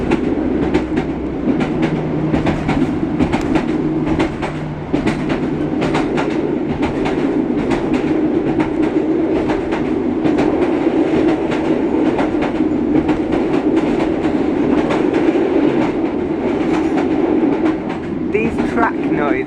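Train wheels clickety-clack loudly and continuously over sectioned track on a Paddington to West Ruislip service, a rhythmic rattling and rumble filling the carriage throughout.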